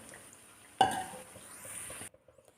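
Banana fritters lifted from hot frying oil with a slotted spoon, a sharp scrape against the pan followed by a brief sizzle, close and short, then quiet.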